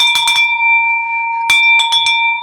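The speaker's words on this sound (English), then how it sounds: "Come on, ring that bell." A bell rings loudly to celebrate a $108,000 real estate wholesale deal, two quick bursts of ringing with a sustained metallic tone carrying between them.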